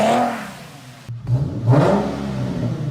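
An Infiniti Q50 with a VQ37 V6 and a muffler-delete exhaust revs up, drops briefly, then rises into a deep, throaty, raspy engine note that stays loud and close to the end.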